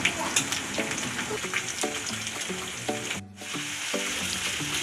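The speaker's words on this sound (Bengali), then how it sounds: "পেঁয়াজটা একটু ভেজে হালকা ব্রাউন করে নেব ব্রাউন হয়ে আসলে প্রথমে আমি বাটা মশলাগুলো দিয়ে দিব দিয়ে দিচ্ছি আদা রসুন বাটা তিন চামচ" Onion fries with ginger-garlic paste in a pan, a steady bright sizzle with spatula scraping and stirring strokes, briefly dropping away for a moment before the frying resumes.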